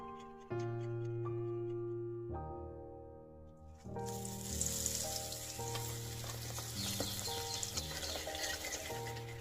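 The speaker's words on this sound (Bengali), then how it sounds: "আমি এরকম করে সব বেগুনিগুলো ভেজে নেব" Eggplant fritters (beguni) deep-frying in oil: a dense, crackling sizzle swells in about halfway through and carries on steadily under music with a steady melodic backing.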